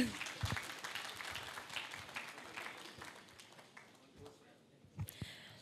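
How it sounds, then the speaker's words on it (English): Faint applause patters from a distant audience, fading gradually with a few sharper claps near the end. "please give them a big round of applause"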